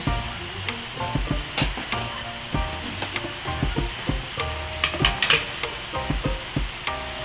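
Bamboo shoots simmer in coconut milk with smoked galunggong fish in a pot, stirred with repeated scraping knocks and clinks over a low bubbling sizzle. The stirring is irregular and close, with no talking.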